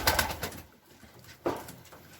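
A pigeon coos in short, soft bursts close by, two brief calls separated by a quiet pause.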